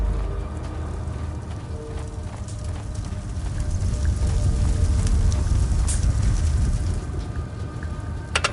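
Horse hooves clip-clopping in a Sherlock Holmes video game, a steady rhythmic clatter that grows louder midway, with a rain-like hiss and low rumble beneath it.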